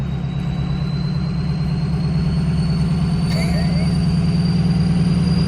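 Idling 6-liter truck engine rated at 600 horsepower, a steady deep rumble with strong low-frequency pulsing held at constant level throughout, close by, with a faint high whine and a brief higher noise partway through.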